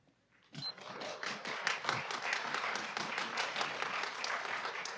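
Audience clapping at a Mobile city council meeting, starting abruptly after a brief quiet moment, then a steady patter of hands from a modest crowd, moderately near.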